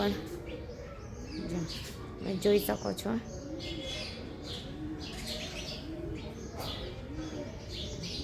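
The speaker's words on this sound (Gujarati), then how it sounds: "જો કેટલી બધી ચપ્પલીઓ આજે તો આવી ગઈ છે અને ચી ચી ચી ચી બહુ જ ચી ચી ચાલુ કરી દીધું છે" Many sparrows chirp in a busy, overlapping chatter in a home courtyard, some perched on a wire, with soft cooing mixed in and a person talking over the birds throughout.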